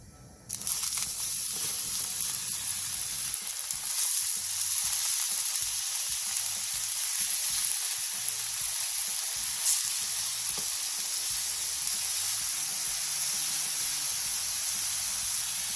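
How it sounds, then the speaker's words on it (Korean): Enoki mushrooms sizzle steadily in sesame oil in a hot pan, a continuous close, bright hiss that swells at the start and holds evenly throughout with no voices. "팬에 참기름 1스푼을 두른 뒤 팽이버섯을 올려주세요."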